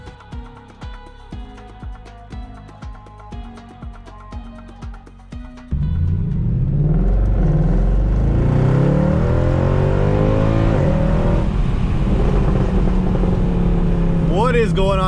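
A Mercedes C63 AMG coupe pulls away after a stretch of rhythmic pulsing sounds, and its engine then roars loud and close, climbing and wavering in pitch as it accelerates and holds to the end.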